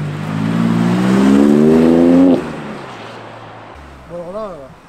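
At an outdoor rally car show, a car engine revs loudly, its pitch climbing steadily for about two seconds before cutting off. A shorter, fainter blip of revs follows.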